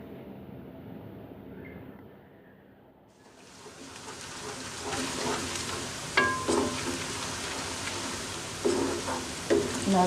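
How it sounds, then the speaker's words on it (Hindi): Onions frying in a pot until golden for chicken biryani: near-silence gives way to a rising, steady sizzle with occasional stirring clinks and scrapes, close and moderately loud. "प्याज को गोल्डन होने तक पकाना है, अच्छे से फ्राई करना है।"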